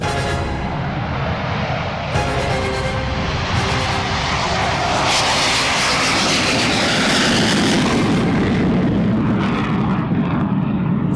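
A Rafale fighter jet roars loudly and steadily, its engine noise rising into a broad rushing whine that fills the whole stretch.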